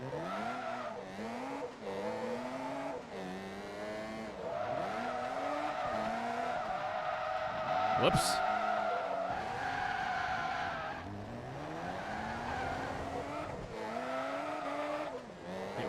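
Race car tires skid and squeal in Forza Motorsport 2 over a high-revving engine whose pitch rises and falls through repeated shifts, loud and continuous with a brief spoken exclamation.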